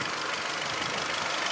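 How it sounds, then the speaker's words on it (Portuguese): A 2015 Hyundai HB20 automatic with about 50,000 km runs its engine in a steady, close mechanical hum with a light ticking texture, alone and without talk. "Tá fazendo um ruído normal também de motor aí"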